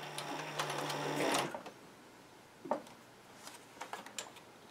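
Sewing machine stitching layered leather pieces for a shoulder holster, a steady mechanical run for over a second with a low motor hum, then a brief thump and scattered faint ticks and handling sounds.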